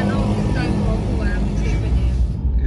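Busy road traffic heard from inside a moving car, a dense continuous rumble of engines and tyres that stays loud throughout and fades briefly at the end.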